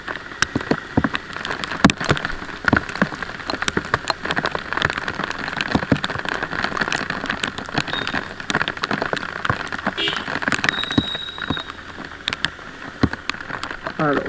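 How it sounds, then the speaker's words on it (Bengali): Steady rain pours down during a motorbike ride through Kolkata, a dense, continuous patter of drops hitting surfaces, with scattered sharper splashes and crackles throughout. "বৃষ্টির মধ্যে সাবধানে বাইক চালাবে"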